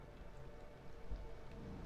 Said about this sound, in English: I reckon that's because of the rain.